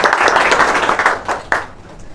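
A small classroom audience at a competitive-exam quiz show claps for a correct answer, a loud burst of clapping that tapers off, with a couple of final isolated claps near the end.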